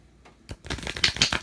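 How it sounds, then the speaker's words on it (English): Deck of tarot cards being shuffled, a short riffling flurry that builds from a soft start into dense, close crackling flicks, loud and alone. "But I just want to shuffle these again."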